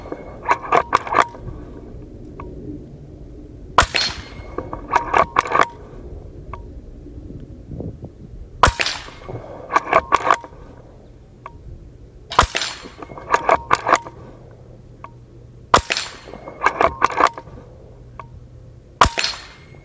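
Sharp rifle shots at a pigeon-sized target, fired in spaced single cracks, some followed by quick clusters of metallic clinks and ringing, loud and close with quiet gaps between.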